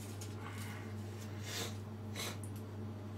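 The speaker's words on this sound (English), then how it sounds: "Oh, I've got sniffles." A few nasal sniffles, short breathy snorts through the nose, close up over a steady low electrical hum.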